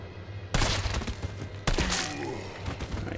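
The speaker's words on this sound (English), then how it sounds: "I like the machine gun." Machine gun fire in Resident Evil 3 Remake cracks out in two sharp, loud bursts about a second apart, with a faint low hum and a lingering tail between and after them.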